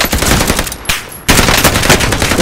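Rapid automatic gunfire from a weapon in Call of Duty: Modern Warfare, loud and dense, broken by a brief lull near the middle before the burst resumes just as hard.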